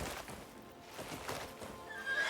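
A horse neighing in a video game, several whinnies rising over a busy background with hoof clip-clops, moderately faint and with no talk.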